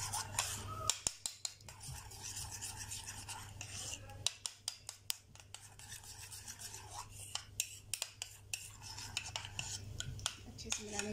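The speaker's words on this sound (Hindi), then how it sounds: "इसको अच्छे से मिला लेंगे इस दही को" Curd stirred with orange food colouring in a bowl for chicken tikka biryani, giving a steady wet scraping and rubbing with frequent small clicks of a spoon against the bowl, close and continuous with no talk.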